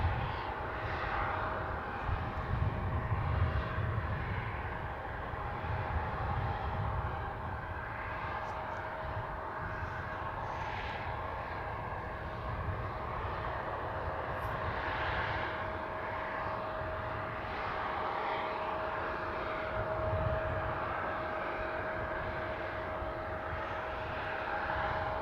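Plane at Manchester Airport, a continuous engine roar and rumble heard from a distance, holding steady and moderately loud for the whole stretch with no voices.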